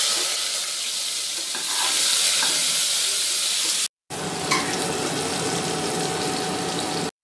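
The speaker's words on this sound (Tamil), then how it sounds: "இதுல கொஞ்சம் வெங்காயம் போட்டுக்கலாம்." Onions hit hot oil in a pressure cooker for a crab gravy, giving a loud, steady hiss and sizzle with a brief break and some stirring scrapes.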